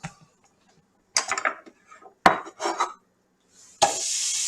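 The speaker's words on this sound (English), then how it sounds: "Hey, we got a little sizzle going" Onions hit a hot grill with a few clanks and scrapes of cookware, then break into a loud, steady hiss of sizzling that continues to the end.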